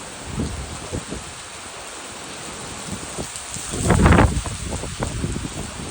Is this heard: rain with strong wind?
yes